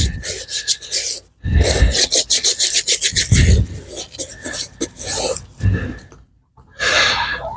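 Close, vigorous scrubbing on a homestead, rough brushing strokes coming in irregular rhythmic bursts with brief pauses between them, with some breathing in the background.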